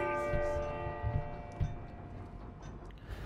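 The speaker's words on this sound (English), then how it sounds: "On, ring that bell." A large bell in a tower rings in Uncharted 4, one loud toll that hangs in a long humming decay, with faint knocks and game sounds beneath it.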